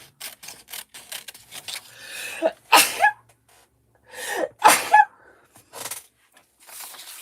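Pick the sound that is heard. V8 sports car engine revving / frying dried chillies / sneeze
sneeze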